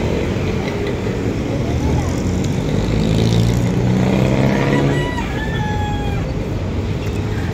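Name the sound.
road traffic, cars passing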